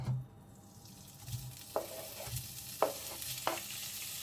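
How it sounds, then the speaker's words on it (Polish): Chopped smoked bacon pieces fry in a hot pan, a steady soft sizzle broken by several sharp stirring scrapes and clacks, close and moderately quiet with no talk. "Na rozgrzaną patelnię dodaję pokrojony w kawałki wędzony boczek"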